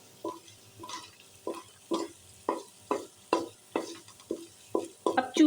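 Green chili paste fries gently in a pan for samosa filling as a spoon stirs it in a steady rhythm, each stroke giving a short scraping sizzle, faint and close.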